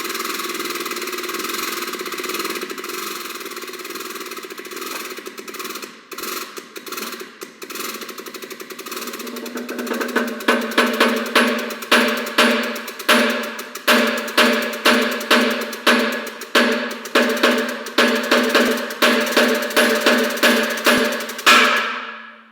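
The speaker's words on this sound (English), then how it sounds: "place the pinion gear in place for the press, and press the bearing on" A hydraulic shop press forces a bearing onto a rear axle pinion gear with a special tool, a steady mechanical hum and then a rapid series of sharp rhythmic clicks and knocks repeating for about twelve seconds, fairly loud and close.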